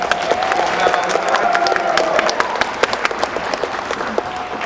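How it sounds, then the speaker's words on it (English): An eighth grade promotion class applauding themselves at a ceremony, a steady mass of clapping with distinct close claps, a few cheers and talking voices mixed in. "Give yourself a little round of applause right now."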